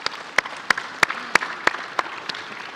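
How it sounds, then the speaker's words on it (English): Conference speakers receive applause from the audience. It comes as a short run of crisp, evenly spaced claps, close and fairly sparse, about three per second, with no voices. "please give a big round of applause to our amazing speakers"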